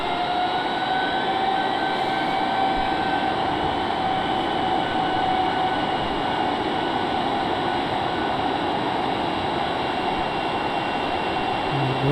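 Engines of the Darkstar aircraft roar at full power in a flight game, a steady loud broadband drone with faint whining tones rising over it, continuous throughout with no talk.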